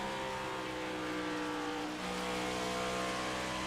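Race cars lap the 1.5-mile oval at Texas Motor Speedway in the iRacing sim, a dense, continuous engine roar with steady high-pitched drone and layered motors passing, loud and unbroken throughout.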